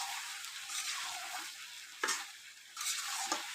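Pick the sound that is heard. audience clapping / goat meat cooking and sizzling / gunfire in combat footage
goat meat cooking and sizzling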